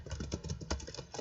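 Rapid, light keystrokes on a computer keyboard tap out a short burst of typing during switch configuration, close and quiet, with no voices.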